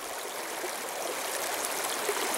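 Creek water rushes steadily over rocks during a mountain outing, a close, continuous broadband wash with no break and no voices.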